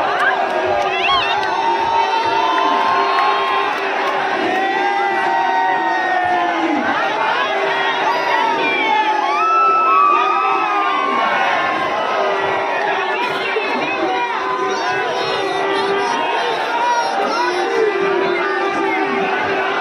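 Huge crowd of devotees at the Ganesh festival in Mumbai, a dense, continuous roar of cheering and chatter with a steady drone running through it, with someone talking over it.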